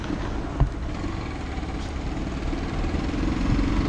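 A Hero Xtreme 200R motorcycle with a carbureted 199.6 cc four-stroke, two-valve air-cooled engine idles steadily nearby, a low even rumble with a small knock near the start.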